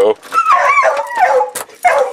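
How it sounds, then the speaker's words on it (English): Dogs at a snowy upstate New York house during a February storm, giving a short burst of excited high yips and whimpering barks close to the microphone, alongside a voice. "I bet you the dogs are gonna start barking in about 2 seconds."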